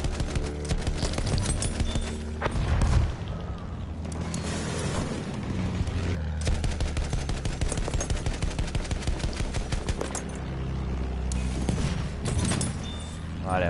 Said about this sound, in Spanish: Me pegan unos cañonazos a veces que no sé con qué son